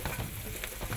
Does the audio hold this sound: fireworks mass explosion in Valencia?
no